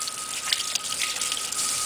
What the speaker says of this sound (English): And we'll rinse it off here.